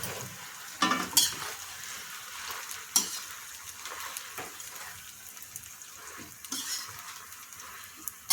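Spice paste with fried onion and garlic fries in a pan for a pui shak chhenchra recipe, with a steady sizzle and intermittent scraping stirs and utensil knocks nearby.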